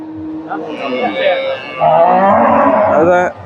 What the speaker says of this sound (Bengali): এখানে চমৎকার একটা জার্সি গাভী দেখেন